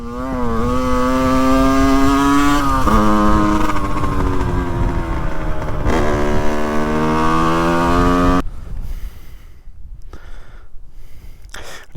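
A Yamaha 50cc moped engine drones loudly and rises in pitch, dipping and climbing again through gear shifts, then cuts out, leaving quieter rustling.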